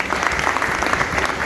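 Students and guests at an ITI convocation break into a brief, dense burst of applause, loud and steady, with a faint low murmur beneath the clapping.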